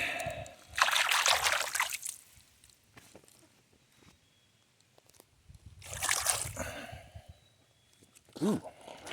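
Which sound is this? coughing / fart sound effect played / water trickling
water trickling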